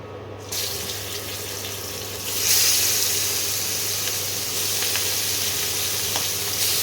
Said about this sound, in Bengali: মাছগুলো একটু ভেজে নিই